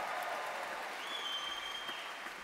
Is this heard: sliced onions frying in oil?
no